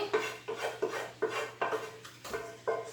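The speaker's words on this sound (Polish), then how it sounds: "najpierw wrzucę cały szpinak do miski" Cooked spinach is tipped and scraped from a pan into a bowl in a home kitchen, a series of about eight short, rhythmic rasping scrapes close by over a faint steady hum, with no talk.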